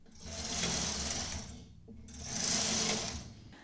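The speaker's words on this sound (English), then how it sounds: "Now we can knit a few rows on all the needles" A knitting machine runs rows in tuck stitch, its carriage swept across all the needles in two loud, whirring passes separated by a brief pause, with no voices.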